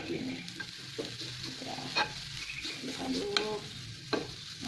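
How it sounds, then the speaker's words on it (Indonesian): A spoon stirs rice around an oil-free nonstick Teflon pan, scraping and clattering steadily over a soft sizzle, with a few sharper knocks against the pan. "Jadi cukup aja diaduk-aduk gini. Ya, aduk-aduk."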